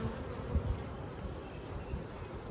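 Honeybees buzz during a hive inspection, a dense, continuous drone close by with individual bees swelling briefly louder as they pass.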